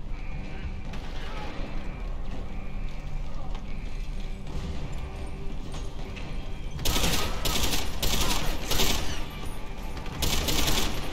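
Gunfire from a weapon in the game Deus Ex: Human Revolution, starting as quieter mechanical clatter and turning into loud rapid bursts of shots in the second half.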